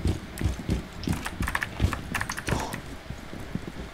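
Heavy, rhythmic footsteps in Rainbow Six Siege thud steadily throughout, a quick clomping stride with light clicking noises mixed in, no talking.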